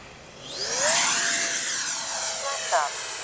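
Freewing T-33 80mm electric ducted-fan RC jet making a pass, a rising whine that swells loud near the middle and then holds a steady rushing tone, with a brief chirp toward the end.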